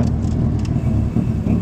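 A Subaru car engine rumbles loudly and close, a continuous heavy revving drone with slight surges and no voices over it.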